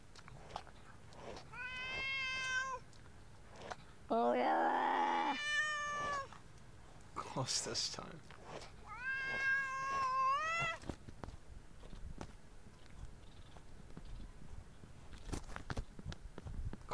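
A cat meows several times in drawn-out, wavering cries, some loud and close, separated by pauses with light patter and shuffling noises.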